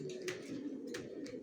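Young racer pigeons coo softly inside a bedding loft, a few quiet throaty calls repeating over low background noise.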